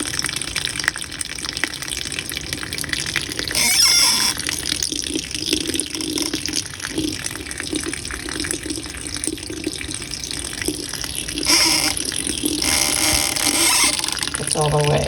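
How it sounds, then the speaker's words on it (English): Open faucets in a tiny mobile home run at low pressure, giving a continuous thin splashing hiss that swells briefly at times, with speech partly over it. "I have the faucets on."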